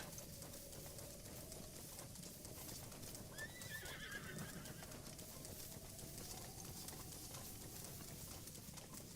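Horses in Zelda Breath of the Wild neigh over a steady patter of galloping hooves, with a whinny rising in the middle, set against a dense outdoor ambience with faint bird coos.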